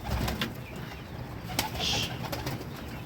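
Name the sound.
Basrawi pigeons cooing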